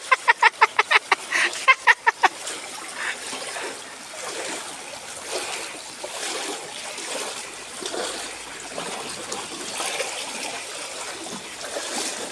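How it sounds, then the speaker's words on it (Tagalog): Flood water runs and trickles in a continuous rushing, splashing flow. A quick series of sharp clicks opens the stretch, with faint voices now and then. "Yan na yung baha."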